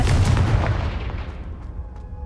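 Confringo fire spell explosion in Hogwarts Legacy, a sharp heavy boom with a burst of crackle that fades quickly into a dull rumbling tail.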